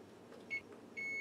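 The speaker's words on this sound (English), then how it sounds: "Okay, there's our timer." A kitchen timer set for three minutes while a cauliflower crust pizza sits under the broiler gives a short beep, then a steady sustained tone begins and holds to the end, alone over a quiet room hum.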